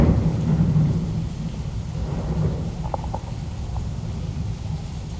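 Thunderstorm with rain beneath the Copano Causeway Bridge, a steady loud low rumble of rain and distant thunder throughout, with a few faint higher clinks.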